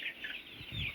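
Baby chicks on a chicken farm cheep in a steady run of high, bright peeps that overlap almost without pause. Some low clucking from older fowl sits underneath, close and fairly loud.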